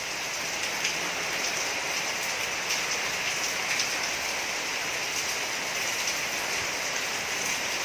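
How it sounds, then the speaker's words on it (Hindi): Heavy monsoon rain in Mumbai pours steadily, a dense, even hiss of drops on surfaces with no pauses. "खूब मस्त बारिश हो रही है, जोरों की बारिश हो रही है।"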